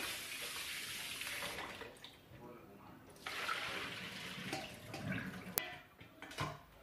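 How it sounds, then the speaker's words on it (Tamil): Running water from a tap splashes over mutton pieces being washed, with uneven sloshing and handling noises, fairly faint and close, and someone talking in the background. "ஸோ மட்டன் வந்துட்டு நல்லா இந்த மாதிரி ஒரு ஃபோர் ஃபைவ் டைம்ஸ் நல்லா வாஷ் பண்ணிடுறேன்"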